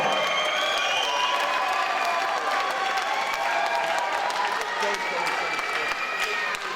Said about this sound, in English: massive round of applause for him